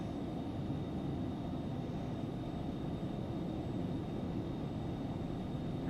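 Twin jet engines of a Phenom 300 at takeoff power in X-Plane 11 produce a steady, loud broadband roar that holds evenly throughout, with no voices.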